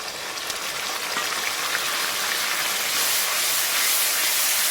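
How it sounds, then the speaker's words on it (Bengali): Onions and spices frying in a pan for Bengali mutton kosha, a loud, dense, continuous sizzle close to the microphone, steady and slightly swelling. "পেঁয়াজটা এবার ভালো করে ভেজে নেব"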